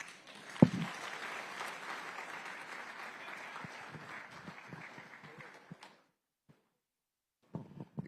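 An audience applauds a speaker at the closing ceremony of a water and environment week, sustained crowd clapping with a sharp close clap early on, fading out around six seconds into quiet before a few scattered claps return.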